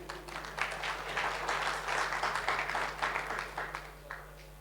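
Audience clapping at a network marketing training seminar in a hall, a steady patter of many hands spread through the room, moderately quiet with a low electrical hum underneath.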